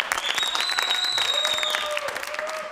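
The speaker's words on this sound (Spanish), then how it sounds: "Aplausos para ellos." Audience applause at a comedy stand-up show, a dense burst of clapping from the crowd with a few whistles rising over it, fairly close and loud throughout.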